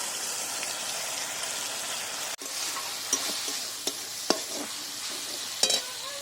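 Tomato paste goes into a pan of frying crab curry, a Bengali kakra kosha, with a loud sizzle, a sharp drop as it lands, then continued frying broken by a few stirring clinks and scrapes.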